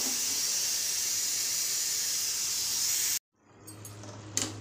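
Steam hisses loudly and continuously from a pressure cooker as its lid is opened while potatoes and beans cook, then cuts off abruptly, followed by a low hum and a faint clatter.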